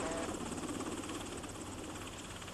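Sikorsky S-70C Firehawk firefighting helicopter producing a steady, fairly loud rotor and turbine drone that holds continuously without breaks.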